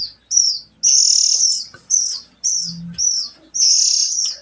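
Young birds chirp in a run of loud, close, high-pitched calls, each lasting up to half a second and separated by short gaps, with one low coo among them.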